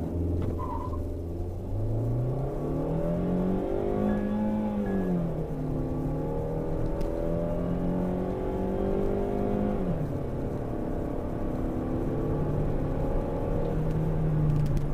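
A Jeep Renegade with a 1.8 16V flex engine of about 130 hp, in manual mode, accelerates from 0 to 100 km/h. The engine drones and climbs steadily through the gears, with pitch dips at the shifts, heard from inside the cabin.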